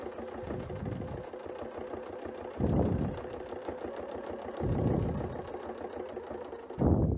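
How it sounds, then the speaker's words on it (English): A sewing machine stitching a quilt, its fast steady needle rhythm running throughout with brief louder surges of motor effort, close and clear with no talking. "we are going to sew up to about that line"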